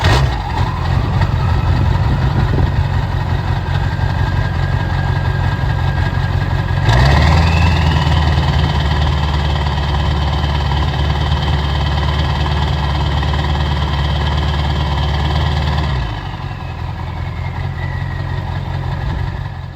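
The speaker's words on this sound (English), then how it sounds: "I'm gonna give you guys some sound clips now of starting it up, and then normal idle, and then high idle" A car engine idles through a factory 3.5-inch exhaust fitted with a 5-inch elbow tip, a steady low rumble that steps up to a faster high idle partway through, then settles back down.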